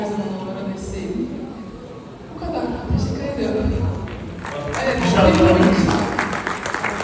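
Audience applause for a Turkish singer at a youth event, clapping building from faint to louder over seven seconds while voices and talk continue throughout.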